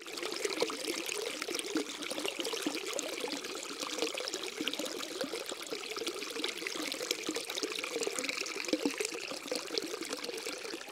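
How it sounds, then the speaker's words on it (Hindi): A small stream of water, part of a narrow canal running toward village fields in Uttarakhand, flowing and babbling continuously at close range with a steady trickling, gurgling texture and no talk. "ये देखिए कितनी कलकल -कल बह रही है ये नदी छोटी सी"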